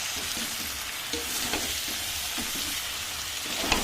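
Meat being sautéed and stirred in its released oil in a home kitchen pot, a constant close sizzle with soft scraping strokes at regular intervals.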